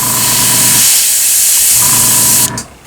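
An airbrush with an adjustable pressure nozzle, turned almost all the way down, sprays with a loud, steady hiss. The hiss briefly dips near the middle and cuts off abruptly near the end.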